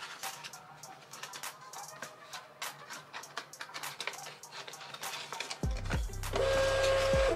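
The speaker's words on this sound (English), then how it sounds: "Now, I'm going to be putting my ship label through the back." A shipping label printer ticks and clicks irregularly as the label feeds through the back, then settles into a steady whirring hum while it prints, close and fairly quiet.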